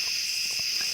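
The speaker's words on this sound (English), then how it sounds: "What you're hearing now are katydids, cone-nosed katydids, crickets, gladiator katydids" Katydids, including cone-nosed and gladiator katydids, and crickets chirp at night in a dense, steady, high-pitched chorus that runs unbroken throughout, with faint rustling beneath.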